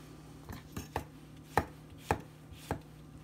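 A knife slices through a Dryad's saddle mushroom on a cutting board, giving about seven crisp, separate chops at an uneven pace. They sound close and fairly quiet, with no talking.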